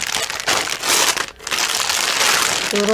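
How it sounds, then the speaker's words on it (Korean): Plastic wrapping on a Coupang delivery package crinkling loudly and continuously as it is unboxed, close up, with a brief pause in the middle. "기사님이 물건을 놓고 가셨는데 같이 언박싱 해보도록 하겠습니다"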